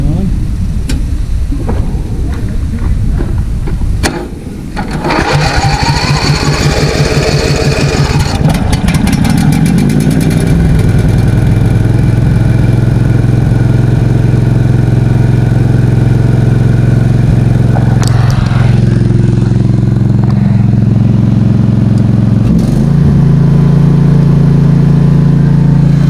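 A small engine fed bad gasoline cranks and catches after a few seconds, then settles into a loud, steady, throbbing idle with a brief shift in tone near the end; faint voices may be heard early on.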